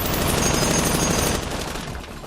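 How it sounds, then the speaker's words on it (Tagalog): Dense, rapid gunfire in a continuous loud burst during combat in Iraq, many shots blurring together before tapering off slightly at the end. "Sa senyas ng chief, sunod-sunod ang putok."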